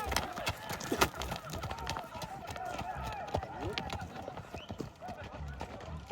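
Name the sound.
horse running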